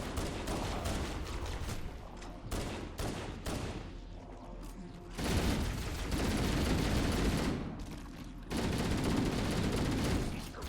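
Rapid gunfire in a video game shooter, dense bursts of shots that surge louder in stretches with brief lulls between, loud and continuous throughout with some voice faintly underneath.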